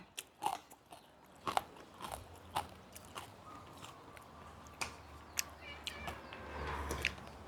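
Crispy pork rinds being bitten and chewed up close, a series of sharp crunches at irregular intervals over faint background noise, no talk.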